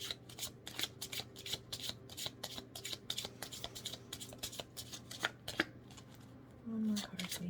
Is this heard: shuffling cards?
yes